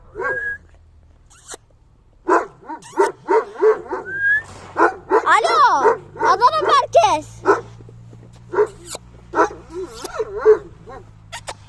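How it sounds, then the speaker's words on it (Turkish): A dog barks, yips and whimpers in quick bursts close by, while a person talks over it. "Aha bizim komşu köpek."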